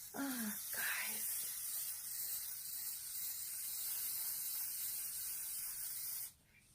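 Not Your Mother's tinted dry shampoo hisses from an aerosol can in a steady, close spray onto an arm, lasting several seconds before cutting off abruptly, with brief clicks at the start.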